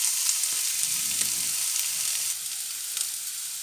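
Food fries in a pan while making tartinade de pilchards, a loud, dense, continuous sizzle heard close up with a few faint scrapes and no talk.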